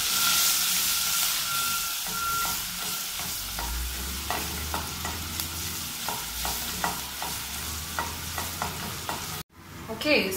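Onions fry steadily with garlic powder and paprika, a continuous sizzle broken by regular scraping stirs, then a short pause and a louder burst of sizzling at the end; no one speaks.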